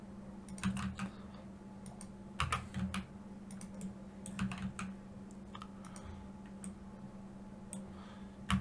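Keys pressed on a computer keyboard make soft, quiet clicks in irregular clusters while a 3D scene is modelled in Blender. A steady low hum runs underneath, and nobody speaks.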